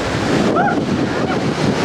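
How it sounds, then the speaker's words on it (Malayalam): Rough sea waves break against the shore in stormy conditions, a loud, close roar of surf mixed with heavy wind buffeting. "തിരമാലയുടെ ശക്തി ഇങ്ങനെ നോക്കി നിൽക്കുകയാണ്"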